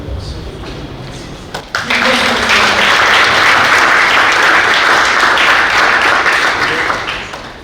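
At a youth summit, a short stretch of talk and room noise gives way to a sudden, loud burst of crowd applause that holds steady and full for several seconds before easing slightly.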